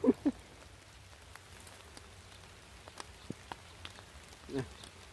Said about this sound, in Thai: ฝนแรงขึ้นแรงขึ้นแล้ว